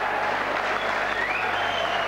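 Spectators in a sports hall in Kalmar cheer and applaud at a European Champions League table tennis match, a dense, continuous roar of clapping and crowd noise throughout.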